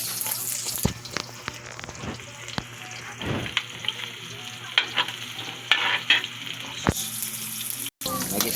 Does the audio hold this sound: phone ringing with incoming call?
no